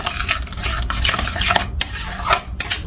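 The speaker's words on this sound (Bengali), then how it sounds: "এটাকে খুব ভালো করে একটুখানি কষিয়ে নেবো মশলাগুলো দিয়ে" A spice masala with sugar and salt gets stirred hard in a pan, a ladle scraping and clanking against the metal in quick repeated strokes over a low sizzle.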